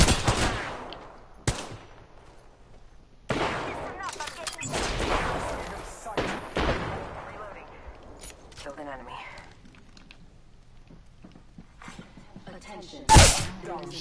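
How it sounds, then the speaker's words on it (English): Bursts of gunfire in the shooter game Apex Legends, several sharp loud volleys with gaps between them, mixed with talk and game voice lines. "I am taking fire."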